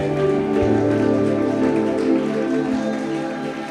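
A church congregation claps with hands raised overhead, a continuous patter of many hands over sustained music, fading slightly toward the end.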